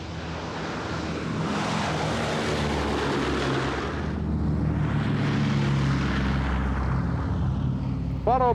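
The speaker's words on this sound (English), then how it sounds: "we're getting our bombers airborne" A B-17 Flying Fortress heavy bomber, a four-engine propeller warplane, roars down the runway on takeoff at an airshow, a loud sustained engine drone that swells as it passes, then a second surge follows.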